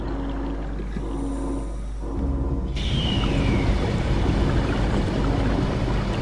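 Water being pumped out in the underwater horror video game SOMA: a low rumbling drone that swells into a loud, continuous rushing, gushing water noise, alone without talk.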